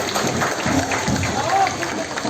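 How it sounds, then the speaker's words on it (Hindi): Crowd applause for a Border Security Force contingent at the Suchetgarh border retreat ceremony in Jammu, a steady wash of clapping from a large outdoor audience mixed with crowd noise and an announcer's voice over it. "जोरदार तालियों से इनके हौसले को सलाम करें"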